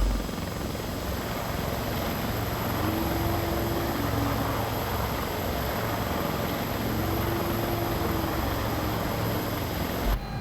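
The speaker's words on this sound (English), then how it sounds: "if you take like the drone camera and like start coming close to those rotor blades, then you will hear like every blade whooshing" A CowanSim S76 helicopter in a flight simulator game, heard from outside with a loud, steady rotor roar and a continuous whooshing beat of the blades, constant throughout without talk.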